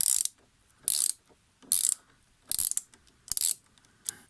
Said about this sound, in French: On va desserrer le collier qui fixe la durite au radiateur.